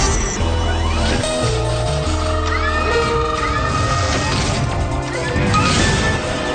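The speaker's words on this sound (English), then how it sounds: "The crash test dummies are crashing!" Crash test dummies crash in a loud, continuous jumble of smashing and banging, with dense cartoon-style impacts and clatter from start to finish.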